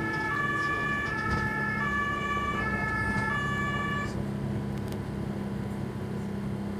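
An ambulance siren wails in alternating two-tone cycles along a seaside promenade on the island of Borkum, then stops, leaving low traffic rumble and engine noise behind.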